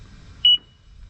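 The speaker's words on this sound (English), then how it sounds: "We're gonna turn the alarm on." A single short electronic beep as a car alarm is armed, clear and sharp against a quiet background.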